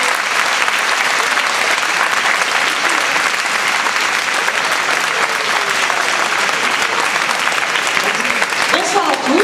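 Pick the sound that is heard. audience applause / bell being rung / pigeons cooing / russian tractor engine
audience applause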